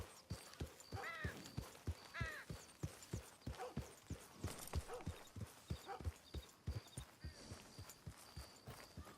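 A horse trotting in the video game Red Dead Redemption 2, with steady, evenly spaced hoof clip-clops close by and soft game ambience behind them.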